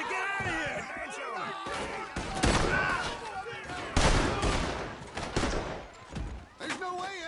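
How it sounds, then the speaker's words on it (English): Chaotic gunfire in a Red Dead Redemption 2 shootout, irregular shots and bangs mixed under shouting voices and game sounds. "Shoot that man!"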